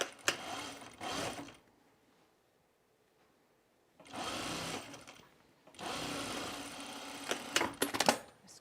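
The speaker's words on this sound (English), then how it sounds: "we're going to sew this at a 1/4 inch seam" A sewing machine stitches a jacket and its lining together at a quarter-inch seam, running in three close, fairly loud bursts of rapid mechanical chatter separated by brief pauses.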